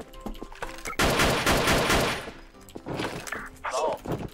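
Gunfire in a video game, a loud rapid burst of automatic shots in the middle, preceded and followed by scattered single cracks and clatter.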